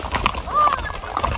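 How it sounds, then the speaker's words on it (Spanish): A bay horse turning stubborn during a trail ride between two ranch hamlets in Badiraguato, with soft hoof clops and rustling under a man's speech throughout. "Es que ahorita se puso rejego el caballo"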